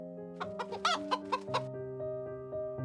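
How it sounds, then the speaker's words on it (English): A chicken clucks in a quick series of close, clear notes, then softer trailing clucks against a steady hum. "The chicken was the first to notice. Cluck, cluck."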